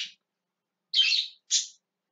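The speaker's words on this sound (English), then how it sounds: "Please don't mind the birds." Three short, high bird chirps come in separate bursts, one at the very start and two close together near the end, with silence between them and no voices.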